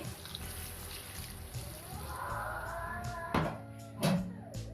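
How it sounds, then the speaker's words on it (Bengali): Lukewarm water is poured from close by into a pan of cooking broiler chicken, a soft running splash that swells in the middle and ends with a couple of louder clinks and splashes. "আমি এখানে কুসুম গরম পানি দিয়ে দিচ্ছি"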